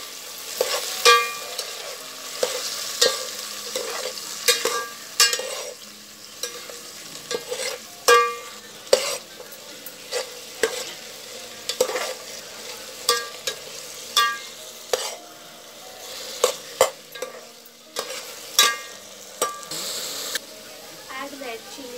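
Tomatoes stirred and frying in a pan for South Indian sambar, a soft continuous sizzle punctuated by regular scraping knocks of a spoon against the pan, with speech at times.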